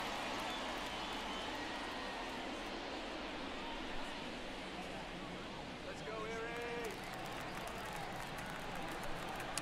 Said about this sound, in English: People are cheering for Erie here.